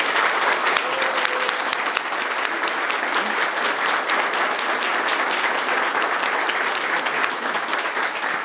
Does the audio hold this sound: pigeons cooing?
no